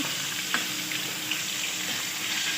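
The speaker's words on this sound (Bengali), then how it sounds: "মাছগুলো ভালো করে একে একে ভেজে নেব" Pieces of rohu fish frying in hot oil give a steady close sizzle and crackle, with occasional soft pops and light kitchen clinks, and no one speaking.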